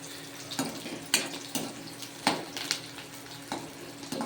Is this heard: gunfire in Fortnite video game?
no